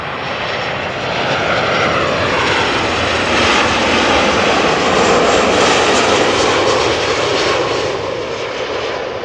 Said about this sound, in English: There must be a turboprop flying in the vicinity of Schiphol.